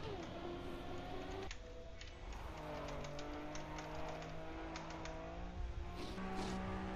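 A rally car in a racing video game revs hard, its engine pitch climbing and dropping through gear changes, with a sharp cut and a rising whine that sound close and continuous.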